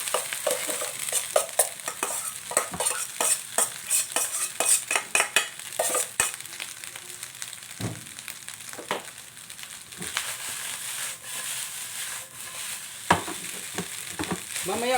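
Cooked rice fries in a hot pan for home-style fried rice, a steady sizzle broken by close, repeated scrapes and clinks of a utensil stirring against the metal, with no talking.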